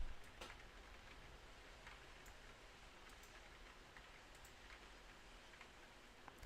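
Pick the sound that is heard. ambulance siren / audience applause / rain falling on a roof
rain falling on a roof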